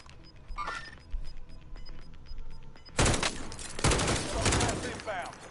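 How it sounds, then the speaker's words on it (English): Video game gunfire, a quiet stretch of scattered distant shots that gives way to loud, dense bursts of automatic fire and fusillades in the second half. "I see them shooting at you"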